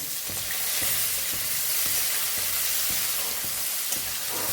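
Onion fries loudly in hot oil for a Bengali puti fish dish, a dense continuous sizzle cut by a regular rhythm of spatula scrapes against the pan.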